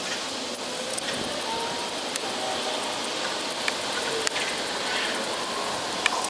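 A ratchet wrench loosens the bolts on a car alternator, making a steady stream of faint, quick clicks. A few sharper clicks stand out against a hissy background, and no one speaks.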